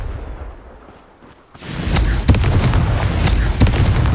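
Confringo fire spell blasting in Hogwarts Legacy, a sudden loud burst of crackling, rumbling explosive noise that kicks in partway and keeps roaring with sharp pops on top.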